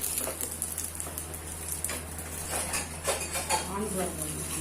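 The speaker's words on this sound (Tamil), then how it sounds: "இப்போ இந்த டீயை வடிக்கிறோம்" Metal utensils clink and scrape against a pot as tea is strained in a kitchen, with steady background hum and scattered clatter.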